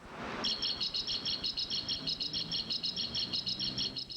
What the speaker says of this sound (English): That's no bird call. It's a noise supposed to scare pigeons.